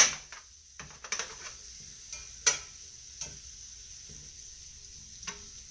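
Onion and vegetable breakfast hash frying in a pan: a soft steady sizzle broken by scattered clicks and scrapes of stirring, close and fairly quiet, with no talking.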